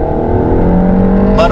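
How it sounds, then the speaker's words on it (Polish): A Peugeot 308 GTI front-wheel-drive hot hatch in sport mode, its engine droning loudly and steadily up close before the revs climb sharply at the very end. "Samochód nagle zaczyna reagować bardziej tak żywiołowo z samego dołu i zmienia się też dźwięk silnika."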